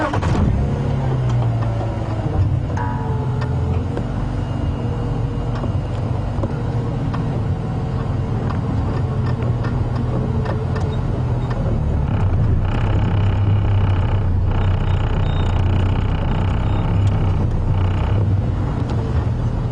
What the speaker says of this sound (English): So let's start the car and see if we can creep up.